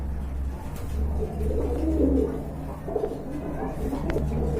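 Pigeons coo at a busy pigeon market, soft repeated low calls rising over a steady crowd murmur and background hum, with faint voices mixed in.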